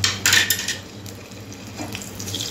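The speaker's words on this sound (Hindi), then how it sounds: "इसको ना तेल में थोड़ा सा फ्राई करूंगी।" Red potato pieces fry in hot oil in a home kitchen, a close sizzle with a bright burst of spattering at the start that settles into a quieter crackle, with a faint utensil clink.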